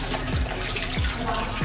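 Tap water runs steadily as hands are rinsed under a faucet during a clinical handwashing routine, a continuous close splashing broken by occasional low thumps.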